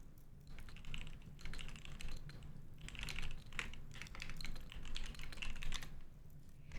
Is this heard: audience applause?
no